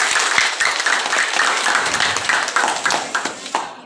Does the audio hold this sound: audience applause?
yes